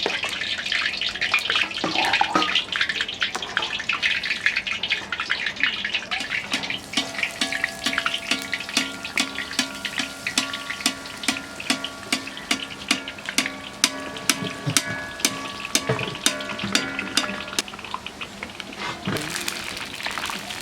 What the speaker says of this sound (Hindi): अब तेल हमारा गर्म हो गया है तो हम बूंदी निकाल देते हैं।